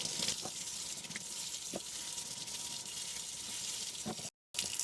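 Painted plant pots scrubbed under running water, a steady faint rush of flowing water with scattered soft scrubbing clicks and knocks, briefly cut to silence near the end.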